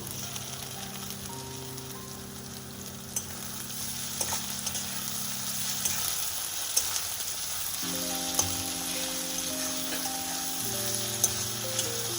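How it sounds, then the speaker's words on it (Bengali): Onions sizzle and crackle steadily in hot oil, with occasional sharp pops and a faint melody in the background. "ভেজে নিচ্ছি এবারে ভাজা হয়ে গেছে পেঁয়াজগুলো"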